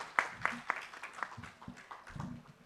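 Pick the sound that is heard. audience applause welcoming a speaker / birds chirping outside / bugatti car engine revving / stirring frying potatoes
audience applause welcoming a speaker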